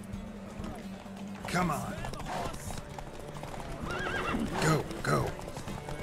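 A horse galloping in a race in the video game Witcher 3, with rhythmic hoofbeats, repeated loud neighs and whinnies, and a player's voice urging it on over the game sound.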